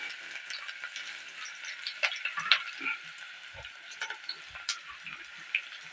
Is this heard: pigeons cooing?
no